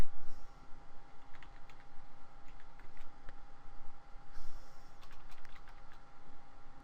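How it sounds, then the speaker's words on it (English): One hand types on a computer keyboard, with irregular, unhurried clicks and small bursts of keystrokes over a steady low background hum. "I'm typing with one hand here, and I don't do well typing with one hand."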